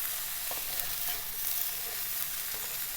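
Tofu frying in a pan for vegan pad thai, a steady bright sizzle close up with faint stirring scrapes and no voices.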